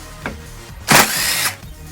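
A power drill running in reverse backs screws out of the front plastic fenders of a 2008 Yamaha Raptor 250 ATV, giving one loud, steady half-second whir after a faint click, with no one talking over it.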